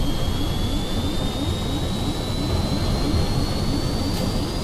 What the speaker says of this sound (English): I'm guessing we're gonna crash somewhere due to the giant hole in the side of the plane